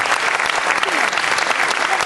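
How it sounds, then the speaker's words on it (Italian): Theatre audience clapping, a continuous dense wash of applause that stays loud and even for the whole short stretch. "devo fare un bel applauso a questi ragazzi"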